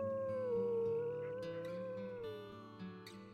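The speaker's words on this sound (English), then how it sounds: "Have one last howl." Wolves in the video game WolfQuest howl together as a pack, with long, sustained, overlapping tones that rise and fall and keep a clear, fairly soft ring throughout.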